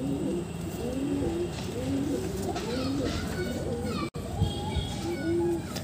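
A rescued wild pigeon, thin and frail, coos in repeated soft rolling phrases close by, with light background noise and a voice briefly present.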